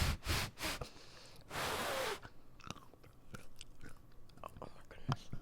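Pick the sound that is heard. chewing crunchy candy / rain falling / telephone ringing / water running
chewing crunchy candy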